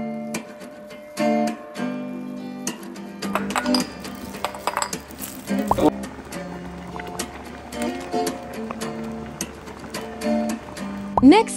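Spoon clinking against a pot while chocolate rice porridge is mixed, bright metallic taps in irregular clusters over a low cooking hum, with occasional voice in between.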